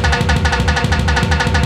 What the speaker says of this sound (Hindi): अभी मैं एक बार कीबोर्ड की जो रिदम है वो स्टार्ट कर रहा